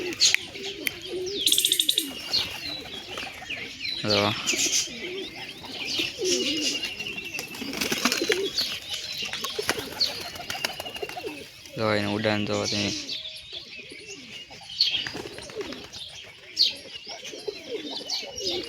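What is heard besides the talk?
wild pigeon chicks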